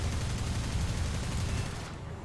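A Yak-1 fighter fires its guns in War Thunder, a dense, rapid low-pitched burst of rattling gunfire lasting about two seconds before cutting off.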